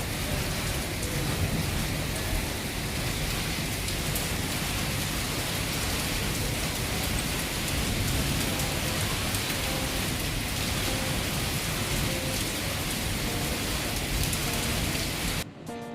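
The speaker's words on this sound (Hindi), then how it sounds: "अच्छी खासी बारिश हुई है हमारे यहाँ" Heavy rain pours down steadily and evenly, a dense close hiss with no pauses that cuts off abruptly at the very end.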